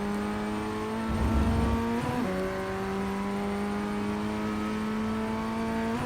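Formula Ford 1600 single-seater engine in iRacing at Oulton Park, held high in second gear with a steady sustained whine, a brief rise in revs and a quick shift midway, loud and continuous with no talk.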